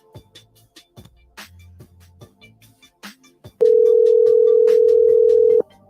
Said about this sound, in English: Make sure we get this phone ringing up here.